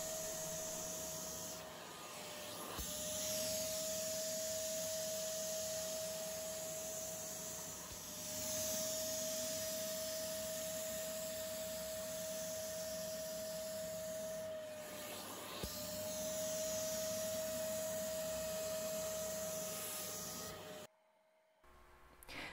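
A wet vac extractor sucks dirty cleaning solution out of old car seats, a steady close, whining suction roar with a sustained tone and occasional shifts as the nozzle moves, cutting off near the end.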